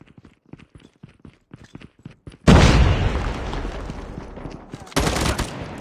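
A frag grenade goes off in Call of Duty Mobile: a sudden loud, booming blast with a long rumbling decay, then a second sharp burst near the end, after some soft scattered taps and clicks.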